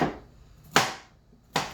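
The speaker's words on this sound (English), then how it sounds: "I'm just going to kind of rough chop up this cauliflower" A knife rough-chopping cauliflower on a cutting board, giving three crisp, close chops spaced well apart, each with a short decay and near-silence between.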